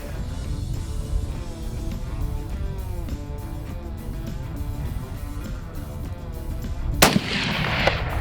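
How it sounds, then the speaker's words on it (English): A single rifle shot fired at a deer while hunting cracks out loud and sharp near the end, standing out from a continuous low rumbling background. "the shot went right over his back"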